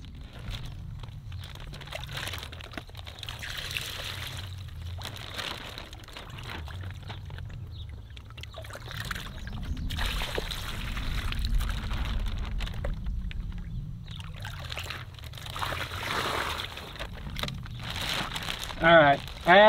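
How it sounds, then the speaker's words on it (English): Pond water sloshes and pours in repeated scoops into a plastic bag that crinkles, at a farm pond being restocked with fish, with a person talking over it. "I'm just going to start scooping pond water into the bag a little at a time"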